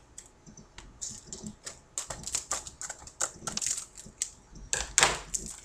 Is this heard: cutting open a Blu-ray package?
yes